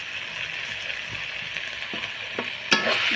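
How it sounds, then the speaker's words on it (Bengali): A spoon stirs ground mustard paste of black and white mustard seed and cashew into elephant foot yam in a hot pan, a soft steady sizzle broken by scraping strokes, ending in a sharper burst of frying. "বাটা মশলাটা দিয়ে আরও কিছুক্ষণ নেড়ে নিলাম।"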